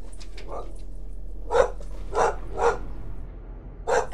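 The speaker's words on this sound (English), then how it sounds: "K9 has spotted something to bark at." A dog named K9 barks at a mailman in a few sharp, separate barks spread over several seconds, close and moderately loud above a low steady hum.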